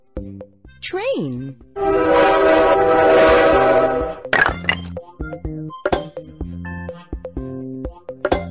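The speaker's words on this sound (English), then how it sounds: "Train." A cartoonish train sequence in a children's puzzle game: a sliding whistle, a long blaring horn blast, then chugging rhythmic tones with game-like musical beeps.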